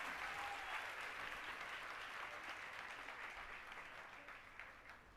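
A church congregation gives loud, sustained applause to welcome a visiting bishop and pastor, a dense wash of many hands clapping that fades slightly over several seconds.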